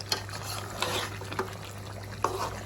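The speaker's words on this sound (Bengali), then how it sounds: "10 মিনিট এভাবে কষাবো।" A desi duck curry is stirred and sautéed in a pot, with a spoon scraping in several short strokes over a steady, close sizzle.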